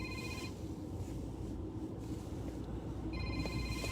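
A telephone keeps ringing with bright electronic trill bursts at the start and again near the end. Each burst is moderately loud over a noisy, murmuring background.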